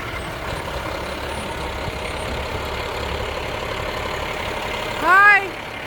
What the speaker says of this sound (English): Oh, I got a big truck coming.